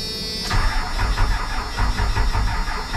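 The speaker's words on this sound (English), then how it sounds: "Let's go ahead and start the Cummins up." A Cummins diesel engine cranks and fires up, catching after a brief start and settling into a loud, rumbling, slightly uneven idle heard from close by.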